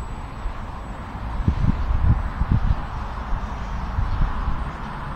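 Steady wind buffeting an outdoor microphone near a UMX Waco aircraft on a gusty day, with a continuous broadband rush and low rumbling gusts that swell in the middle and ease off, with no talking.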